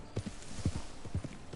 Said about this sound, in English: I got my horse through the old town road